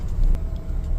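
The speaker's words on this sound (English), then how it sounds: "we got the luxury of driving straight onto the pre-cut driveway" A car rolls onto a freshly cut meadow driveway in midsummer, a brief close low engine rumble that swells slightly and then holds steady.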